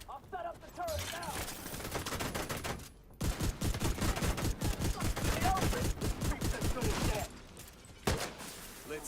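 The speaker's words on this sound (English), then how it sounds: "I'll set up the turret now." Rapid bursts of automated turret gunfire ring out in a video game, a dense stream of shots that pauses briefly and then resumes in a long rhythmic volley, with a voice speaking at the start and end.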